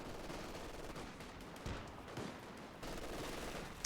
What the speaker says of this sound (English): These Grenadiers desperately digging in heavy cover and letting loose with the LMG-42